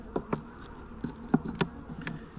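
Honey bees robbing the last honey from a hive buzz close by in several short passes, with louder bursts as individual insects fly near, over a quieter outdoor background.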